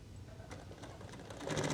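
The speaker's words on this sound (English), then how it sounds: "Now we're over here at the machine and we're just going to basically sew on the line that we have drawn" A sewing machine stitches along a drawn line on the back of a dress being remade into a jumpsuit, a quiet close mechanical whir with regular needle clatter that grows louder near the end, with no talking.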